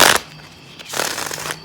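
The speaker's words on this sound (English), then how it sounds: "let me re-enter these cards here and shuffle again" Tarot cards being shuffled, heard as two brief, close riffling bursts separated by a short pause, with no talking.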